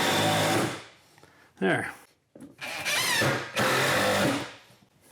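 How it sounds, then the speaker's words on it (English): A power drill drives 2-inch screws into a kitchen countertop during a DIY renovation, with two loud whirring bursts separated by quiet gaps and a brief spoken word between them. "we're going to take our couple of 2-inch screws, attach it to our countertop"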